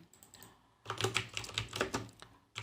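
Fingers tap a computer keyboard in quick, uneven bursts of close clicks, faint at first and then a busier run of keystrokes while renaming a layer in Illustrator.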